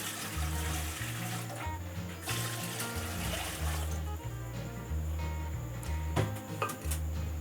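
Water runs continuously into a cooking pot on the stove, meant as two litres for a kilo of rice for chicken biryani, a steady splashing and gurgling stream at moderate volume with no talk over it.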